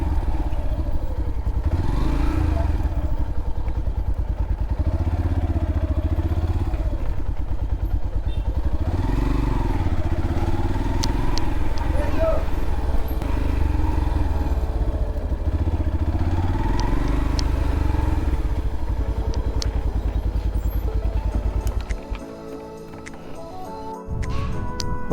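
A motorcycle engine drones continuously during a ride near Malpe Beach in Udupi, loud and close with wind buffeting and clattering, shifting in pitch as speed changes, then easing near the end.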